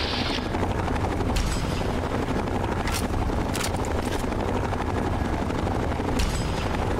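Helicopter with gunfire in the video game Fallout: A Tale of Two Wastelands, a steady loud rotor drone running throughout, with several brief sharp bursts of shots cutting through.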